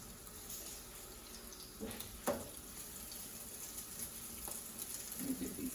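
Sweet potato and tuna patties frying in a pan, a soft steady sizzle and hiss with a few faint clinks and scrapes, quiet and close, no talking.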